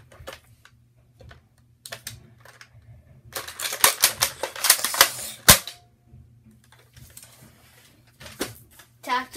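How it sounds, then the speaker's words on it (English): Tactical reload of the Flip Fury weapon in a video game, a quick run of sharp mechanical clicks and clacks bunched together mid-clip, with a voice speaking around them. "Tactical reload for the Flip Fury."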